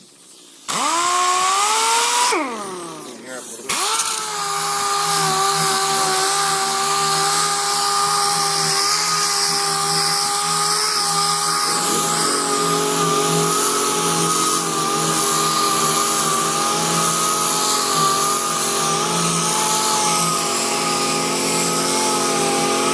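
A DA sander with 80-grit paper grinds down the surface of a truck, giving a loud, steady, high-pitched whine that runs without a break after a short start-up rev.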